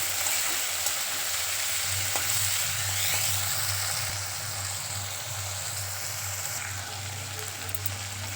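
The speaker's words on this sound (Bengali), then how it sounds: "তেলটা গরম হয়ে গেলেই চিংড়ি মাছগুলো তেলের মধ্যে দিয়ে চিংড়ি মাছগুলোকে ভেজে নেব" Prawns fry in hot oil in a wok, a dense, steady sizzling hiss heard up close over a low constant hum, with faint occasional clinks and no voices.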